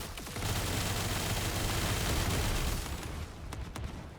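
Burst-fire rifle in The First Descendant video game: a dense, continuous roar of rapid shots and blasts that fills the clip, easing slightly near the end with a few separate sharp cracks.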